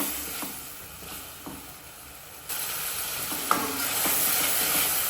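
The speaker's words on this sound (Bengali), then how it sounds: "এখানটাকে ভালোভাবে কষিয়ে নিতে হবে মশলাটাকে।" Spice paste (masala) frying in a pan for a Bengali Ritha fish curry, a steady close sizzle with soft scraping stirs, growing a bit louder partway through.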